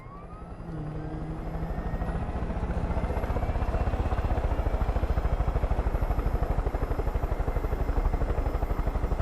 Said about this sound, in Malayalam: എന്റെ ഹെലികോപ്റ്ററാ